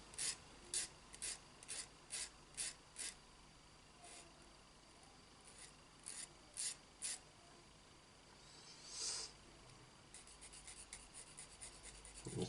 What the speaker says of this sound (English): You can sand it like that.